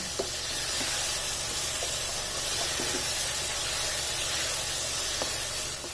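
Turmeric, coriander powder and garlic-ginger paste fry in a pan, giving a steady close hiss and sizzle with faint scattered crackles, no voices.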